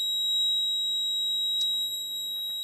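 A fire alarm panel in alarm during a system test gives a steady, piercing high-pitched electronic tone that holds without a break, with faint clicks and handling underneath.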